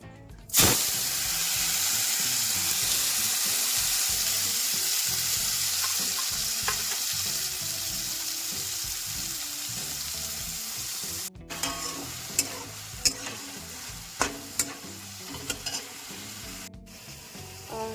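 Ginger, garlic and red chili paste hits hot oil with a loud, sudden sizzle that roars steadily, then eases into a softer hiss with several sharp stirring clicks and scrapes.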